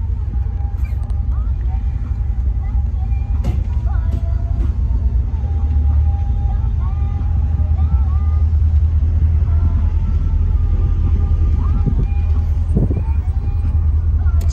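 A Chevrolet Nova SS with an LS engine cruises along, heard from inside the car as a loud, steady low engine rumble with a few faint clicks and knocks on top.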